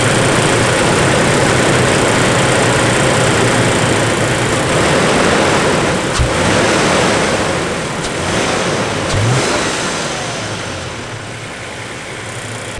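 A 2019 Toyota Tacoma SR5 with its stock intake idles steadily up close, a constant low engine rumble with broadband hiss and a couple of brief clunks, easing slightly quieter toward the end.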